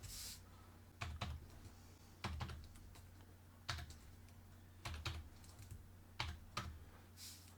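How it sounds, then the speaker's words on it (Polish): Keys clatter on a computer keyboard as a customer number is typed into an online form, short bursts of quiet clicks separated by brief pauses over a low steady hum. "Musimy prowadzić jego Kundelnummer."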